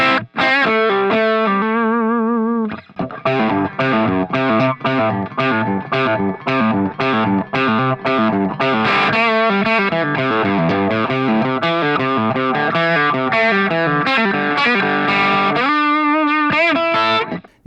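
Distorted electric guitar playing a slow, deliberate solo line, notes ringing into each other with a chorus-like shimmer, loud and alone without any talking.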